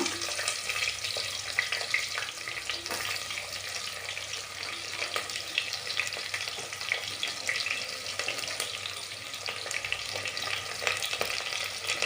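Cinnamon, cloves and star anise frying in hot oil, an even, continuous sizzle at moderate volume without breaks, no voices.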